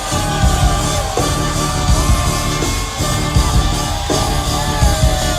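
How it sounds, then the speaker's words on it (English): A concert audience roars and yells in shock after a singer's onstage stunt, a dense, sustained wall of crowd noise with shouts rising and falling throughout and amplified music tones running underneath. "The crowd erupted in disbelief. Some screamed, some laughed"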